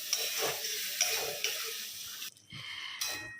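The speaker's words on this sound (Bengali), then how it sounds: "মশলাটা একটুখানি কষাবো, তারপর দেবো চর্বিটা।" Spice paste mixed with tomato paste sautéing in a pan, a soft continuous sizzle with light scraping stirs and small spoon clinks, fairly quiet and close.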